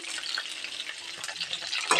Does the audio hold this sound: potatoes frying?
yes